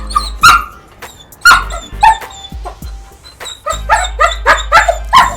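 A dog on a leash during a pulling-training session barks and yips repeatedly in close, loud bursts, speeding into a rapid string of barks toward the end.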